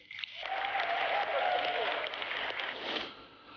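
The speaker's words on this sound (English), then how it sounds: "round of applause for our cast, please." Applause for the cast of a talk-show reunion rises quickly and holds as a bright, even wash of clapping for a few seconds before tapering slightly, with faint voices underneath.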